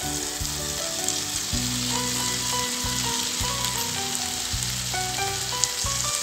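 Chopped spring onions are added to a tomato masala frying in a pan, giving a loud, steady sizzle throughout with the scrape and clatter of stirring on top.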